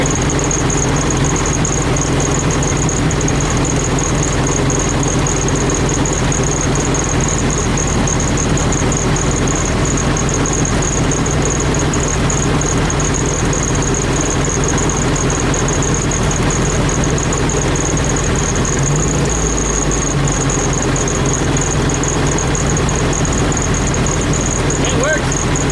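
A 1972 VW Beetle engine runs after a distributor install, a loud, steady idling rumble with a rough, vibrating texture and a faint high whine that holds unbroken throughout.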